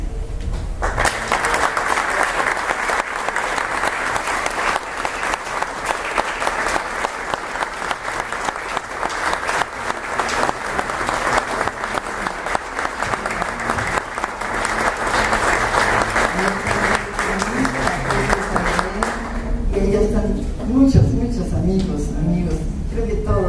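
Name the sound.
audience applause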